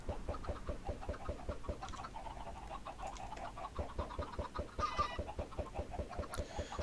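Chickens in the Minecraft video game cluck in a rapid, steady stream of short pulses, several birds close by, with a few faint extra noises in the background.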